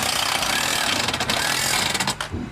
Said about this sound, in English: we're just going to zap these 1/2 inch bolts in here, and it's going to expand in the mason work